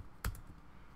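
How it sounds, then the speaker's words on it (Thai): One F12 key press on a computer keyboard gives a single short, close click, followed by a faint second tap and quiet room tone. "ผมกดฟังก์ชัน F12 นะครับปุ่มบนคีย์บอร์ด F12 นะครับ"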